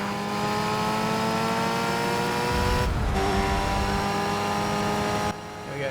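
Open-wheel race cars in the Toca 3 video game roar at high revs in a steady, loud engine drone, the tones rising as one car slipstreams and overtakes another, with a brief dip before the pitch shifts again.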